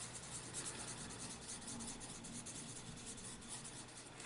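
A colored pencil smooths over pencil crayon marks on paper in an adult colouring book, giving a continuous soft, close rubbing scratch with a steady rhythm.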